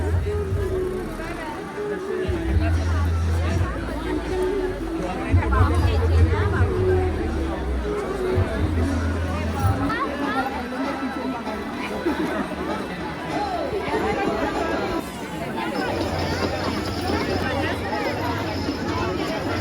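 A dense crowd at a large fair in Bhandup with boat and ferris-wheel rides and sweet stalls, a steady babble of many voices throughout and occasional nearby talk and low rumbling.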